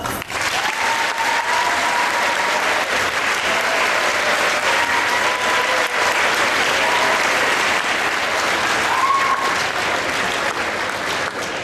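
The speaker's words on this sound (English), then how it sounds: "Let's all give him a round of applause." Sustained audience applause at a benefit presentation in Cambridge, Ontario, a dense, even wash of many hands clapping that holds steadily for the whole stretch with a few voices faintly mixed in.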